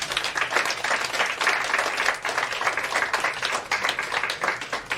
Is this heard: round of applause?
yes